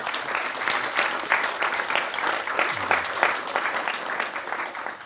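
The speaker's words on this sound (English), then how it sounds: "I want another round of applause for Mike Eley." Audience applause at a Q&A for the film My Cousin Rachel, a sustained round of moderately loud clapping from a seated crowd, even and continuous.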